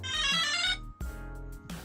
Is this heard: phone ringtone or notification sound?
yes